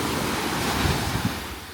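Small ocean swell washing onto a beach at Beef Island in the British Virgin Islands, a continuous soft surf roar with a couple of gentle wave thumps, roughened by wind buffeting the microphone; no voices.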